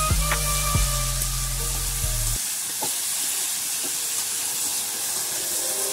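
Papaya chicken curry sizzles and steams in a pan, a loud hissing fry with a few stirring knocks, while a low tonal hum sounds at the start and then cuts out.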